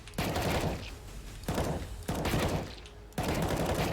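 Gunfire in the Aimbotz aim trainer game, with loud, sharp shots repeating in quick bursts about every second over a constant backdrop of game noise.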